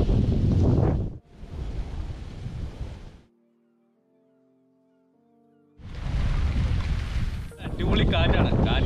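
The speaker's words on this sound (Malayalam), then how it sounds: "അടിപൊളി കാറ്റാണ്, കാറ്റ് കൊണ്ട് ഇങ്ങനെ ഇരിക്കുകയാണ്" Strong wind outdoors in Kuttanad's backwaters buffets the microphone in loud, roaring gusts, dropping to near silence with a faint tonal hum midway before the blustering returns even harder.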